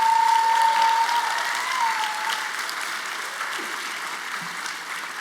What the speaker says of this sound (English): Can we please take a moment to give a round of applause to OWAMI, all of their great work in this space.